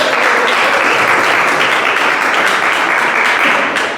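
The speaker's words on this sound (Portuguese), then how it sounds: "Glorifique o Senhor com as palmas essa noite" A church congregation claps continuously in a dense, steady roar of applause filling the room, fading slightly at the very end.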